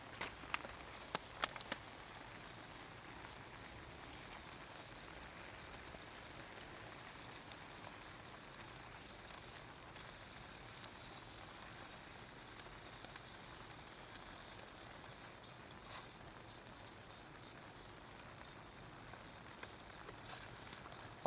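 Steady rain patters on a Naturehike Massif solo hot tent at a camp, a constant close hiss with scattered sharper drops, heard alone without talk.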